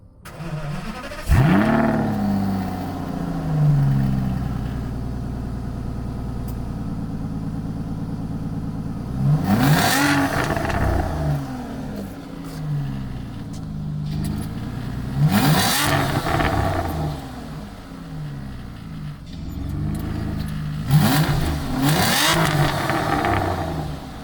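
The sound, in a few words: Aston Martin DB9 6-liter V12 engine starting and revving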